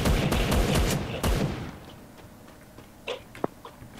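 Rapid bursts of gunfire from the video game Free Fire rattle loudly at first, then fade into a quieter stretch broken by a few sharp isolated shots.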